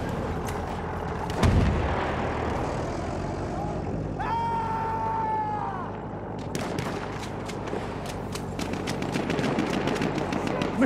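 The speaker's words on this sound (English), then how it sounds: "Machine gun, look like!" Machine gun fire in the Battlefield 1 video game, loud and sustained bursts amid heavy battlefield noise with a big low thump near the start and voices over the din.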